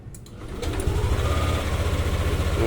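A Yamaha Aerox V2 scooter engine starts on a LiFePO4 battery: a brief starter whir, then it catches and settles into a steady, close, rapid idle putter with no talking.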